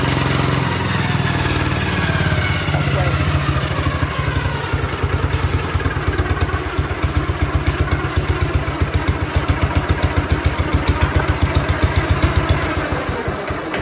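An old Ford barn-find tractor engine runs at lowered throttle, a loud close rumble that settles into an even, rapid thumping beat after a few seconds, with no voices.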